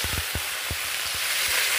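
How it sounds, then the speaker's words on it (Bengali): Cut potatoes, onion and a whole tomato frying in oil with bay leaf for a Bengali cabbage curry, a steady close sizzle broken by a few soft taps of a spoon in the pan. "এটাকে আমি ভালো করে ভেজে নেব"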